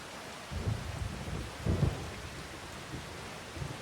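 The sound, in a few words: rain and thunder in video game Farming Simulator 25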